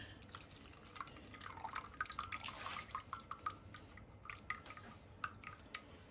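Liquid from cooking king prawns is strained, giving faint irregular drips and trickles with small splashes, quiet and close.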